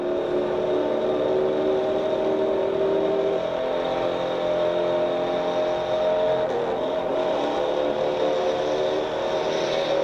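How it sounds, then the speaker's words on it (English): Car engines in the Bullitt movie car chase roar loudly and continuously for ten seconds, a sustained revving drone with steady pitch bands and no talking. "That engine noise is fantastic."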